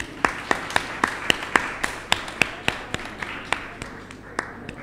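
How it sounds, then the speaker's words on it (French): An audience at an award ceremony gives a small round of applause for Policena Aïcheou, a few distinct close claps in a loose, uneven rhythm that thin out near the end. "On l'applaudit très fort"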